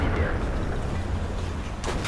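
Tank cannon shot in World of Tanks: a loud, rumbling boom that rolls and fades, followed by a sharper crack near the end, heard over steady engine noise.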